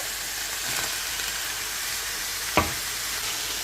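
Onion and garlic hit a hot pan for a shepherd's pie, giving a steady bright sizzling hiss with a single sharp knock near the end and no talking.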